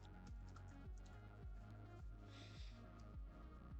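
Someone types on a computer keyboard, close and quiet. Key clicks come in short, uneven bursts with brief pauses, and no voice is heard.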